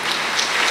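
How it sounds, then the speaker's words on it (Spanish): Applause for graduating students at a high school graduation ceremony in Fresnillo, a steady wash of many hands clapping at even volume, sounding like soft rain, with no voices over it. "Un aplauso merecido"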